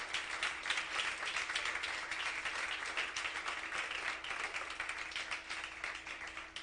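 Church congregation applauding together, a dense, steady wash of many hands clapping at moderate distance that fills the whole space without pause.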